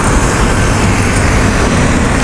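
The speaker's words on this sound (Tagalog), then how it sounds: "ito yung main roads traffic" Steady, loud roar of traffic on main roads near Merdeka 118 in Kuala Lumpur, continuous engine and tyre noise from cars and buses with no breaks.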